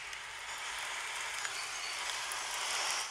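Calming rain playing as an iPhone background sound, a steady, even hiss of rainfall with no breaks or voices across the whole stretch.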